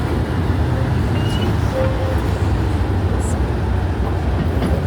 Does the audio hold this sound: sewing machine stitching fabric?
no